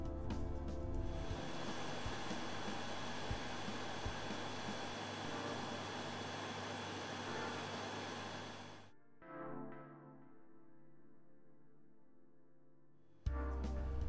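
Wassenburg WD440 endoscope washer disinfector running its wash cycle, a loud steady rushing and whooshing of water and machinery that drops abruptly to a quieter hum before the noise returns.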